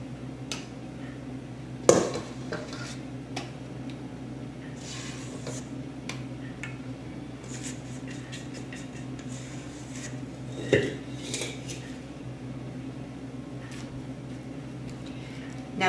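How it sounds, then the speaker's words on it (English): A spatula scrapes chocolate chip cake batter from a mixing bowl in a home kitchen, soft intermittent scrapes with a couple of sharper knocks against the bowl over a steady low hum. "Making sure I'm scraping the bowl, getting all this beautiful cake batter out."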